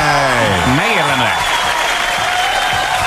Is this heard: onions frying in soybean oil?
no